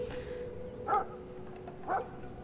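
A dangerous dog in Brothers: A Tale of Two Sons gives two separate short barks about a second apart, moderately loud over a steady low tonal hum, with no talking.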